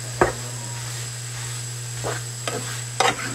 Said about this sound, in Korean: 이시간에양파볶는사람은처음이네